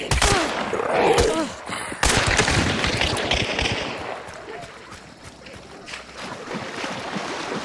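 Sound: gunfire in video game Hunt: Showdown

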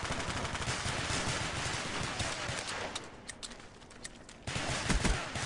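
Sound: gunfire in a gun game video game

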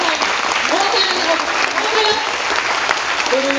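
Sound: audience applause

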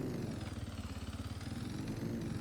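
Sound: motocross motorcycle engine

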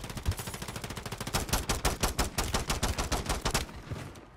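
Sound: rifle gunfire in video game Call of Duty MW3

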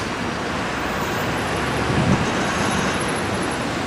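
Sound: road traffic, cars driving past on a Berlin street

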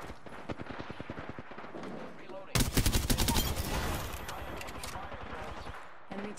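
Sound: gunfire in a shooter video game

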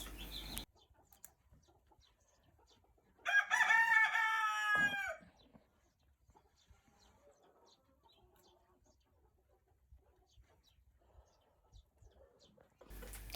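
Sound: rooster crowing

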